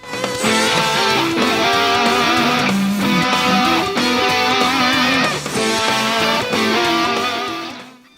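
An electric guitar played through a Dunlop Crybaby wah pedal mimics a muted trombone in a big-band tribute, loud sustained tones with vowel-like wah sweeps, playing alone without talk.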